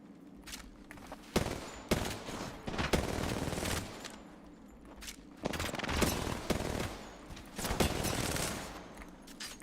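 Gunfire in the Apex Legends video game: bursts of rapid automatic shots and scattered single shots in several clusters, fairly loud, with no talk.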